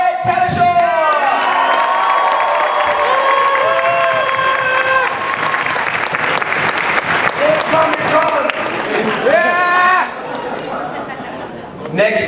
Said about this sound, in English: Let's give a big round of applause for Fred Tatasciore!